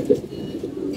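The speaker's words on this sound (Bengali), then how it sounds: "রোদের কারণে কবুতরগুলা ছাড়লাম, কবুতরগুলা বাইরে বাইরে খাইতেছে" Pigeons kept outdoors in the sun coo in low, soft warbling pulses, close by and steady, with faint background noise.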